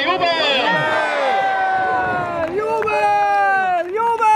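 A crowd at a knights' tournament at the Riegersburg opening in Südoststeiermark cheers loudly, many voices shouting and whooping together in a sustained, close roar.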